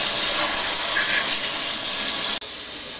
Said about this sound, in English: The first step to cooking is to wash your hands.